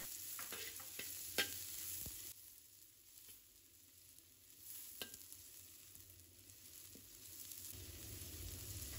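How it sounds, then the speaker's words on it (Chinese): Minced garlic and long green chili peppers stir-fry in hot lard in a wok over low heat, a soft steady sizzle broken by sharp scraping clicks of the spatula, with no one speaking. "油热之后，把蒜末和线椒开小火给它煸炒出香味"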